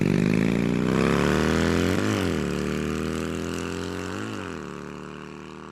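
A motorbike engine drones steadily on a road at night, close and even, with two brief dips in pitch as the rider eases the throttle. No one speaks.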